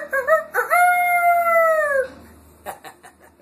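A rooster crows once, a long drawn-out call with a sharp start and a falling finish, followed by faint rustling and a few soft knocks.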